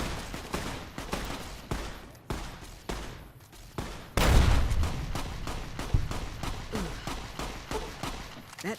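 A frag grenade in Fallout New Vegas goes off midway with a loud, close boom. Scattered gunfire crackles before and after it.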